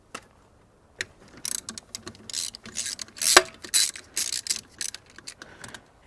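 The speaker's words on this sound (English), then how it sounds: "I'm just going to come in here with the T30 on the ignition coil retaining bolt." A T30 Torx ratchet works an ignition coil retaining bolt on an Audi SQ5 3.0L TFSI turbocharged V6, giving rapid, close clicking pawl ratchets in short bursts with brief pauses between strokes.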